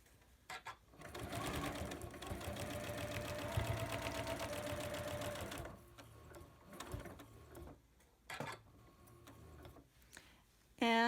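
Sewing machine stitching in the ditch along a quilt seam, a fast, even mechanical run for about five seconds, then short bursts of stitching and quiet pauses, with a brief voice at the very end.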